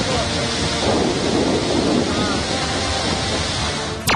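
Gokak waterfall plunging 180 feet after heavy rain in Karnataka, a loud, dense, unbroken roar of rushing water that fills the whole stretch.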